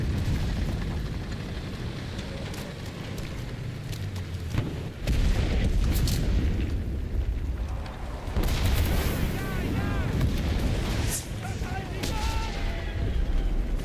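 An artillery strike in the shooter game Enlisted, with heavy booms and rumbling blasts over a dense din of gunfire, loud and sustained, with voices mixed in.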